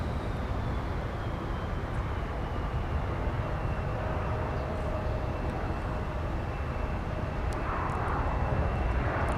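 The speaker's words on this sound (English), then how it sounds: "Got a United E175 with a slow crawl on taxiway Whiskey headed to 17 for departure." A United E175 regional jet creeps slowly along an airport taxiway toward the runway for departure, its engines giving a steady, broad, moderately distant whine and rumble that holds constant throughout.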